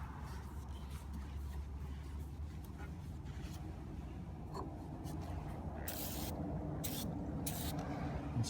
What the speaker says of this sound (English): so that when I spray this, it doesn't go down on my work surface